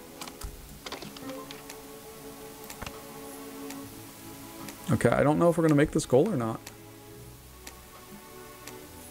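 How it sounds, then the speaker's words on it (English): A countdown timer ticks in the airline sim video game Puffin Planes as the time limit nears, a steady faint tick under a man's speech, with a louder tonal burst of game sound rising midway. "You can hear the ticking going off now because we're very close to our time limit."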